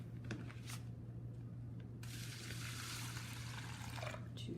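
Water pours into a plastic bag, a steady splashing trickle that swells for the last couple of seconds after a few soft handling clicks, close by with no voices.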